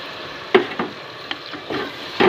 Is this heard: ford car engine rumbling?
no